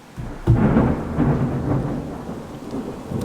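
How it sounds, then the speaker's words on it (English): Thunder rumbles through a thunderstorm with steady rain, opening with a sharp crack and then rolling on as a loud, sustained boom over the constant hiss of falling rain. No voices are heard. "Even the thunderstorm agrees."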